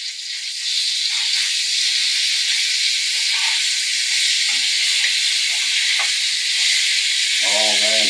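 Blackened sea bass fillets, freshly caught near St Marks, Florida, sizzle and hiss steadily in a hot pan after being flipped, a loud continuous fry with a brief clink near the end.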